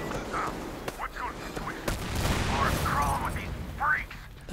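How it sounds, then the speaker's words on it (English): Gunfire and a blast from a fight in the video game Metro Exodus, with broadband cracks and a sustained rumbling boom in the middle, heard under shouting voices and game chatter. "How was that explosion?"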